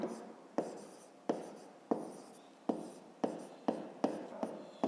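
A pen writes out the answer to a fifth-grade math exercise, about eight quick scratching strokes in an uneven rhythm, close and fairly soft, with no talking.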